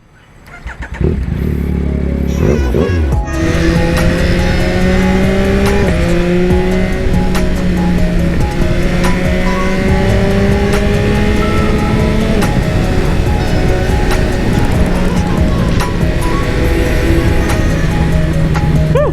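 A Yamaha XSR900 motorcycle engine cold-starts with a sharp crank and bark, then holds a loud, steady high idle with fluctuating revs and tonal drone, close up and with no talk.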